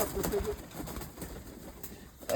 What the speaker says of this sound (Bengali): এই হচ্ছে আমার কবুতর, সবগুলাকে খাবার দিচ্ছে।